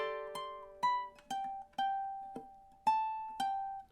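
A ukulele plays measure 72 of a song as a series of plucked single notes and ringing chords, about eight distinct attacks each decaying cleanly, close and quiet with no talking.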